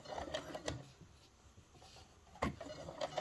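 Domestic sewing machine running a short back stitch during a seam-finishing job, heard as a few quick mechanical clatters and clicks, close and moderately loud, with a brief burst near the start and another toward the end.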